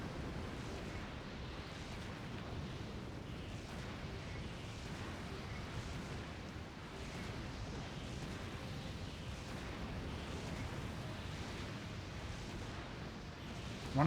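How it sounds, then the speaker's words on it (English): Bombs explode without pause in the hack-and-slash video game Hyrule Warriors: Age of Calamity, a dense, continuous low rumble of blasts that runs throughout with no talk over it. "There's lots of bombs happening."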